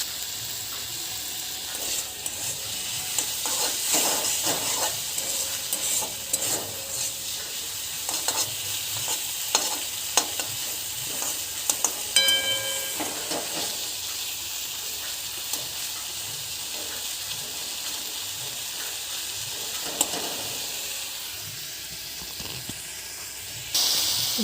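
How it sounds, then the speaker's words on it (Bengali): Shrimp frying in a pan with turmeric and slit green chillies for a jute-leaf dish: a steady, close sizzle and hiss runs throughout, broken by scraping stirs of a spatula, with no voices. "চিংড়ি মাছগুলো একটু ভেজে নেব"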